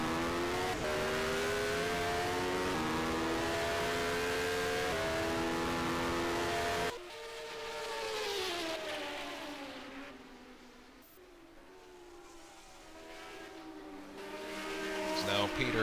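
Formula 1 race cars from 1975 at Fuji roar down the straight, a loud sustained engine note that drops abruptly partway through, then rises again as cars approach with commentary-like voices underneath.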